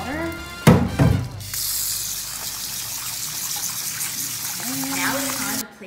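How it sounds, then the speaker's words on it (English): Rice ramen noodles being rinsed in a bowl of water, with a broad splashing, sloshing wash of water that runs steadily for several seconds and sits close. Brief talk comes before and after it. "we have to rinse this out really, really well in this bowl of water"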